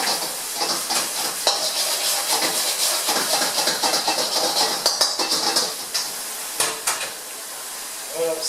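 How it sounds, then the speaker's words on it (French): Hissing sizzle of a hot pan just deglazed with about ten centilitres of soy sauce, with frequent clinks and scrapes of a utensil against the pan throughout, close and fairly loud. "Je déglace avec la sauce soja"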